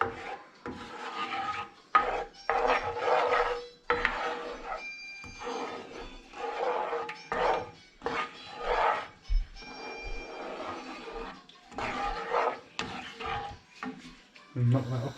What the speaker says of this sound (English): So now we want to mix this garlic, ginger and spices